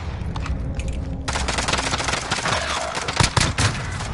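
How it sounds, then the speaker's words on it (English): Rapid, loud volleys from akimbo pistols in a video game, a fast rattling stream of close shots after a brief quieter lead-in, with a few heavier cracks near the end. "Fuck these akimbo pistols"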